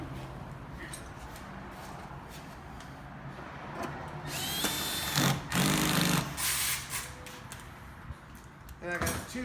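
A power drill removes screws during a sport exhaust install on a Porsche 996, with a loud whirring burst midway and a short buzz near the end over a low workshop hum.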